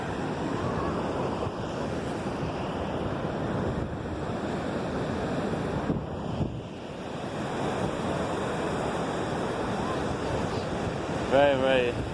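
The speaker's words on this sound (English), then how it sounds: "Wow, look at the ocean right there." Ocean surf rolls in at Mission Beach, California, a continuous wash of breaking waves mixed with gusty wind buffeting the microphone, loud and close throughout.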